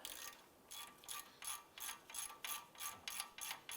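A ratchet loosening a rear brake caliper bracket bolt on a 2006-2011 Cadillac DTS clicks in about nine rapid bursts of rhythmic pawl ratcheting, close by and alone.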